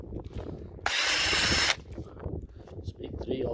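Cordless drill fitted with a chainsaw attachment cutting wood at high speed, one loud buzzing burst lasting under a second, surrounded by handling noise and clatter before and after.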